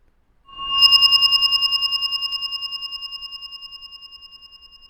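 A single bright, synthetic, beeping tone has an echo effect applied in Audacity, so it repeats as a rapid, evenly spaced train of decaying copies that fade gradually over several seconds in an otherwise silent track.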